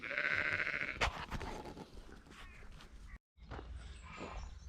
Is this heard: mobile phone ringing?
no